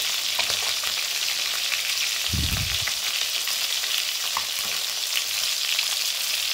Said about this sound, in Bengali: তো এখানে ফ্রাই করে নিচ্ছি